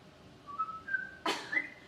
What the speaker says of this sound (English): I whistle.